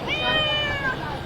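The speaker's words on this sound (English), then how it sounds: "It is a very tame cat." A tame, hungry cat lets out one drawn-out, close meow, loud and clear over a faint background hum.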